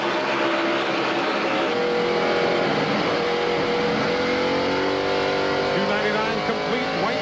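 NASCAR stock cars racing at speed in the 1997 CMT 300, a loud continuous roar of many engines with overlapping pitch sweeps as the pack goes by, heavy crowd-and-track wash underneath.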